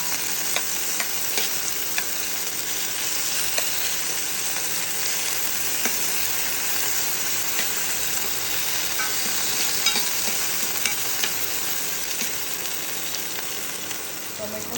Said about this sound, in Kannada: ಇದು ಚೆನ್ನಾಗಿ ಫ್ರೈ ಆಗಬೇಕು.